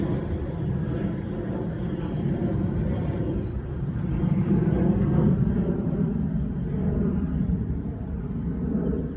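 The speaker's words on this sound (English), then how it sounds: "This damn plane." An airplane passing overhead produces a steady, loud, low roar that swells slightly in the middle and holds for several seconds.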